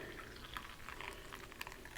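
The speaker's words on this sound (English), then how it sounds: "I'll pour some coffee." Coffee poured into a cup, a soft, faint liquid trickle with small clinks and splashes lasting a couple of seconds, close by and unaccompanied by talk.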